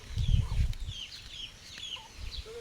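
Chickens cluck and chatter close by in short bursts, with low scuffling and rustling underneath, no voices.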